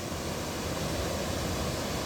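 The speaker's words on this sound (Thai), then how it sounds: "เสียงน้ำตก" Falling water roars in a steady, broad hiss without pause, moderately distant and uniform throughout.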